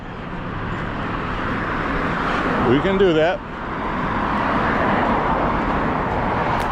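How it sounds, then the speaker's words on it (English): Cars passing on a roadway during an outdoor walk, a steady broadband traffic rumble that swells and fades as vehicles go by, with someone talking briefly over it. "I'm going to wait till these cars go by so you can hear what I'm saying"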